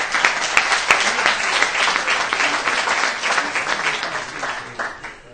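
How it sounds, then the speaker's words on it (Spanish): An audience at a gathering of activists in Málaga gives sustained applause in honor of the 15M movement, continuous clapping from many hands, loud and steady before gradually fading. "pido un aplauso al 15M"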